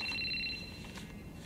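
A telephone rings in a film scene, a short electronic trill at the start that fades under muffled background sound.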